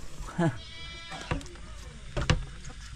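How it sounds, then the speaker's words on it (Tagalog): A hungry goat bleats inside a house, several short nasal bleats close by, with people talking in between and around the calls. "ang aming kambing ay gutom na, pumasok na sa bahay"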